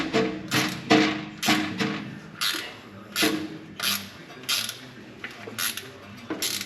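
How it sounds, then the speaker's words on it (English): A swivel-head ratchet wrench bolting on a GMC Sierra transfer case clicks in short repeated strokes, a steady run of sharp ratcheting bursts, close and fairly loud with no talk. "It's a ratchet wrench. With a swivel head."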